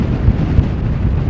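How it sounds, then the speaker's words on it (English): Strong gusty wind on the South Downs buffets the microphone with a loud, low rumbling roar, steady with a couple of heavier thumps, close and without voices. "Incredibly windy this morning still."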